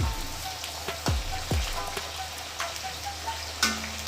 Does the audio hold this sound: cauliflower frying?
yes